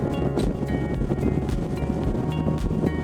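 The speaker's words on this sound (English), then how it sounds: "And it's pretty windy out." Steady, roaring wind buffets the microphone on a sailboat heading almost straight into the wind in the Mona Passage toward San Juan, Puerto Rico, with rushing water and boat noise underneath, continuous and loud throughout.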